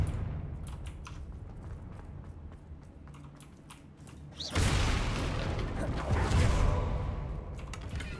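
A Confringo fire spell explodes in the Hogwarts Legacy video game. Quiet clicking and rustling give way to a sudden loud burst, which leaves a broad roaring blast that lingers and slowly fades.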